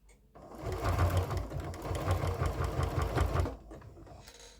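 A home sewing machine stitches a quarter-inch seam through fabric layers placed right sides together, running close and steady in a continuous mechanical whir for about three seconds before stopping.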